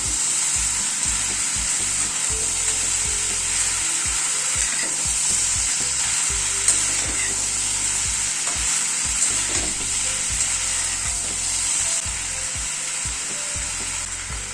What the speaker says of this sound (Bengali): এবার ক্যাপসিকামটা অ্যাড করে দিচ্ছি।